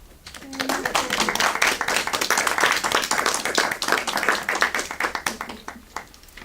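A church congregation claps in welcome for a reverend taking the pulpit, a dense burst of applause that swells quickly, holds steady, then thins into scattered claps near the end.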